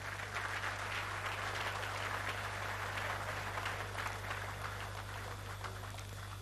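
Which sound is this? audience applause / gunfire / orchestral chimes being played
audience applause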